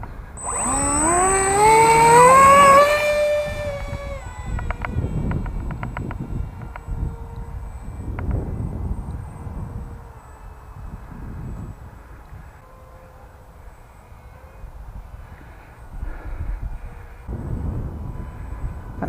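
The electric motor of a foamboard Vulcan RC plane whines loudly at first with a rising tone, then settles into a fainter, steady whir as the plane flies off at half throttle, with no one talking.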